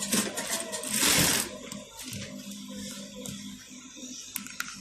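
A sewing machine stitching fabric, with a loud whirring run of stitches early on that gives way to quieter mechanical hum and a few small clicks and taps.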